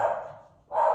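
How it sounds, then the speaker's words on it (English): Dogs barking outdoors in the distance, a dense burst of barks at the start that fades, then another loud burst near the end, with no talk over it. "Sorry about the dogs out there barking."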